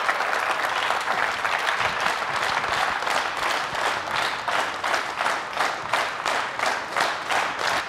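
A studio audience at a KBC Kannada quiz show applauds a contestant's win with loud, sustained clapping that fills the room evenly for the whole stretch.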